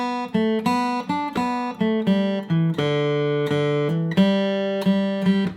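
Guitar playing the Christmas tune Go Tell It On The Mountain in a shuffle feel, bright plucked notes and chords picked in uneven long-short eighths with a lilting, swung rhythm, close and clear with no talking.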